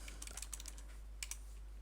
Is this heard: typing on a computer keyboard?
yes